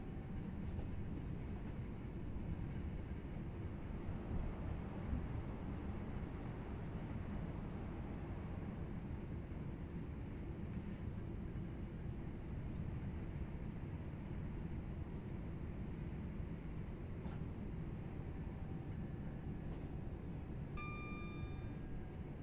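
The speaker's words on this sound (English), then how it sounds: "Here's a Pendolino, guys." A Pendolino train rolls past in Train Sim World 5 on a Manchester Airport commuter route, a steady broad rumble of wheels and motors holding for the whole stretch, with a few faint tonal chimes near the end.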